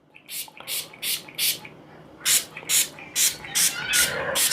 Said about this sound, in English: So let me spray this and get out those bubbles.